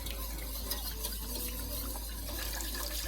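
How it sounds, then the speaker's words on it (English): Chicken broth pours into a soup pot while being stirred, a steady close liquid rush with faint clinks running continuously for the whole moment. "I'm stirring it while I pour in the broth."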